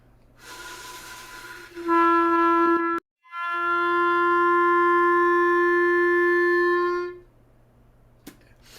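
A clarinet holds an open G, starting breathy and airy, briefly cutting out as embouchure pressure increases, then sustaining a clear focused tone before stopping.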